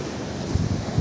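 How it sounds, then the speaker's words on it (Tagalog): Strong ocean waves crash near the shore, a loud, continuous roar of surf with heavy wind buffeting the microphone and a couple of surges toward the end. "Grabe yung alon."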